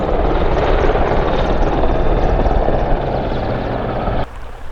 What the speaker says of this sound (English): I think it's a Merlin. I think it's a Merlin helicopter